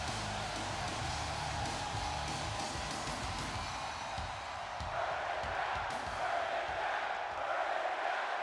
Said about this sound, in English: Sounds like the crowd's solidly behind the challenger here tonight, Seth Rollins.